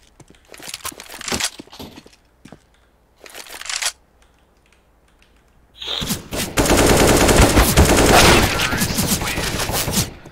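Bursts of rapid gunfire in Counter-Strike: Global Offensive, sporadic at first, then a loud sustained barrage of shots dominating the second half.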